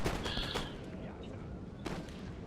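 Battlefield gunfire from a 2v2 land battle in the video game Napoleon: Total War, heard as a dense, continuous crackle of distant musket volleys with a sharper burst near the end, under a voice.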